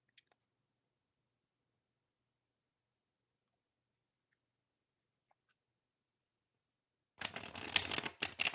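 Tarot cards shuffled for a reading: a near-silent stretch, then a brisk, close riffling burst of cards lasting about a second at the end.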